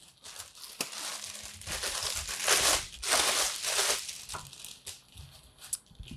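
Plastic packaging crinkles and rustles continuously as the bass (left) half of a DUO spliceable portable piano is pulled out of its bag, with louder crumpling bursts in the middle and no talking.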